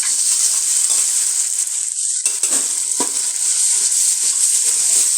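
Ginger garlic paste fries with browned onions in a pan, a loud steady sizzle with a few stirring clinks and scrapes, close up and with no voices.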